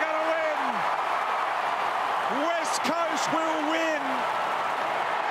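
A packed stadium crowd roars through an AFL match between West Coast and Richmond, loud and continuous, with a commentator talking over the din.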